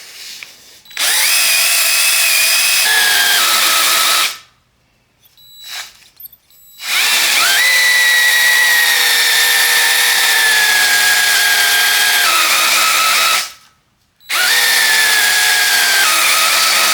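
A cordless drill with a nearly dead battery spins a rusty piston during cylinder honing, running in three loud sustained bursts with brief silent pauses between them and its pitch sagging as it slows.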